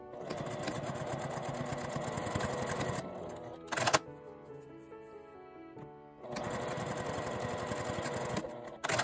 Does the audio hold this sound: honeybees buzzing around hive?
no